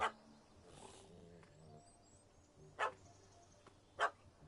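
A dog barks in The Witcher 3 video game, sharp single yaps spaced out against a quiet outdoor ambience with faint game sounds in between.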